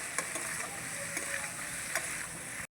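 Pumpkin with spices and amchur powder is stirred in a hot pan, a steady close sizzle broken by a few light scraping clicks of the spoon, ending abruptly.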